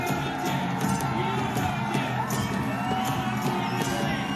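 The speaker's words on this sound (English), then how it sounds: "the crowd is fully into it" Spectators at an outdoor kabaddi final roar and cheer without a break, with whoops and children's shouts rising from a dense, loud crowd.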